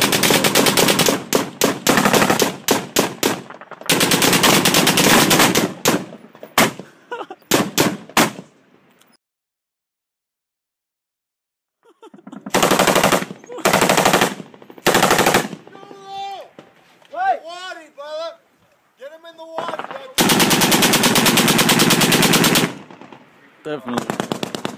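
Heavy automatic gunfire in a firefight with the Taliban in Afghanistan rips past in long loud bursts and single cracks overhead, with a silent gap midway and voices calling out between bursts.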